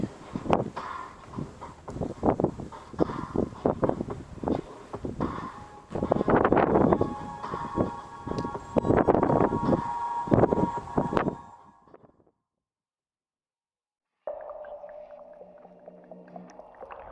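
Strong wind buffets the microphone during a high-speed test with a small 850 mAh battery-powered device, loud gusty roaring bursts for about twelve seconds, then a brief silence before a steadier whooshing resumes.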